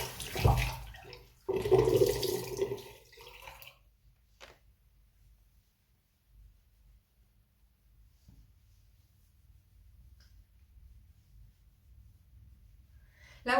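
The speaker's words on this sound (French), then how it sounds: "Et je vais rincer à l'eau froide." Cold tap water runs as a towel is rinsed, a splashing stream for a few seconds that then fades to quiet with a few faint drips and clicks.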